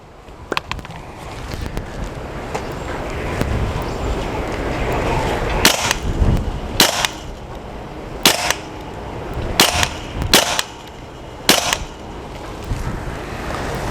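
Sharp, snappy shots from a Hatsan Bullmaster 5.5mm semi-automatic air rifle fired at a bottle, a quick series of about six cracks spaced a second or so apart over outdoor wind noise.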